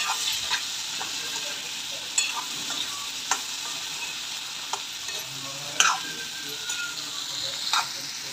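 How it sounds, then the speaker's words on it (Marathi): Chopped bell peppers for a Maharashtrian capsicum sabji sizzle steadily in a pan, with a spatula scraping and clinking against the metal every second or two, close and fairly quiet, without any talk. "कट केलेली भोपळी मिरची टाकून घेऊ। आणि चांगल्या प्रकारे मिक्स करून घेऊया।"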